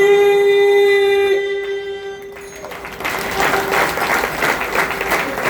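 At a Warkari kirtan festival in Maval, a sustained musical tone fades and an audience breaks into one loud round of clapping that runs steadily for the last couple of seconds, with no talk.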